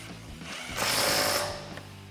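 A ratchet tightening a 12mm bolt to reinstall a suspension bracket on a 2007-2020 Toyota Tundra during a lift kit install, a brief burst of rapid clicking and whirring that rises in the middle then fades.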